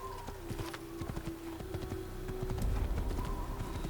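A horse's hooves clip-clop in a rapid, even rhythm in the Assassin's Creed video game, over a soft background rumble that swells toward the end.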